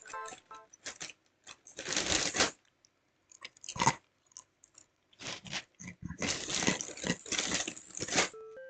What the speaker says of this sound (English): Again, I apologize for the crunching noise,